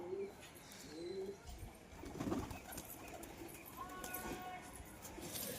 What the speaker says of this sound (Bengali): তাই বাড়িতে নিয়ে এলাম শখিন কবুতর ফেন্সি কবুতর